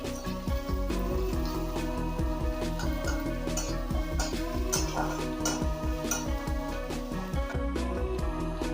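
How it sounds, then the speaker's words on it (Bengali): Chopped onion frying in a pan for a ridge gourd curry, a continuous sizzle with repeated scraping and ticking of a spatula against the metal, close and steady throughout. "পেঁয়াজটা হালকা ভাজা হয়ে গেছে।"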